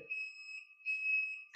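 A lift heading up to a library gives off a steady high electronic tone that cuts out briefly and resumes, clear against a quiet room.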